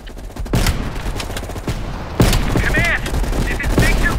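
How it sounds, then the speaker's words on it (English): Sniper rifle shots and surrounding gunfire in the video game Call of Duty Black Ops Cold War, with loud sharp cracks at irregular intervals over a continuous battle din and some faint voices mixed in. "You readied your sniper rifle to assist."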